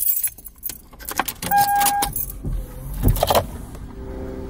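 A set of car keys jangles close up inside a vehicle, several quick metallic shakes and clinks over a low idle-like rumble and faint cabin sounds.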